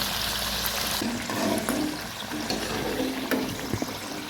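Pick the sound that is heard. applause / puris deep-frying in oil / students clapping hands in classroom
puris deep-frying in oil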